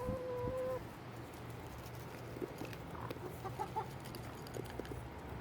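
Backyard chickens running toward a treat, giving scattered soft clucks and short calls close by, with a brief tonal beep at the start and quiet outdoor ambience throughout.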